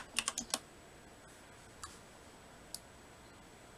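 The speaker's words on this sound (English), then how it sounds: "I keep clicking on the" A quick cluster of four close computer mouse clicks opens the stretch, followed by a few isolated, softer clicks spaced over a quiet background.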